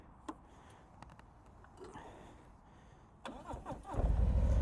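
A Harley-Davidson Road King motorcycle after quiet handling clicks: the starter cranks briefly, then the V-twin catches and rumbles into a loud, deep, close-up idle.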